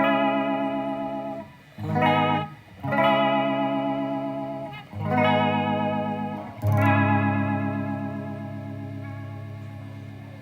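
Electric guitar run through a fast vibrato effect from a Zoom MS50G pedal, playing sustained chords in a shoegaze style with a quick wobbling pitch. Three or four loud, ringing strums carry a steady shimmer, with no voices.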